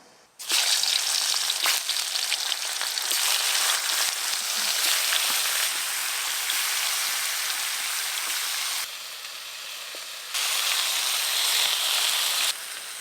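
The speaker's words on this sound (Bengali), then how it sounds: "এবার কিন্তু কুমড়ো ভাজা তাড়াতাড়ি হয়ে যাবে" Spiced pumpkin slices frying in hot oil in a pan, a loud, dense sizzle that holds steady with a brief dip partway through, and no voices.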